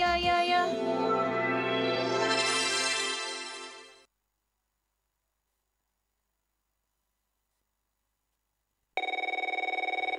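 A telephone rings loudly in a long electronic trill for about four seconds, then falls silent, and a second ring starts near the end.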